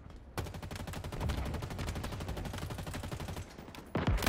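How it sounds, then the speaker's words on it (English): Rapid automatic gunfire from a gun in the Halo video game, a long unbroken burst of evenly spaced shots that ends with a short louder crack. "I'm gonna put all my bullets into it."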